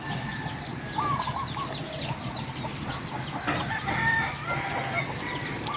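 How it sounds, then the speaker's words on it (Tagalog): Chickens and ducks call out in the rain, with crowing and clucking spread across the scene at moderate distance over steady rainfall noise. "Mga itik tsaka manok."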